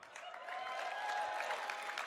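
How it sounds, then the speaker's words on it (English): Audience clapping at a 2015 Tuck investiture ceremony, a steady dense patter of many hands that holds evenly for about two seconds at moderate distance, with no speech over it. "Please feel free to applaud early and often."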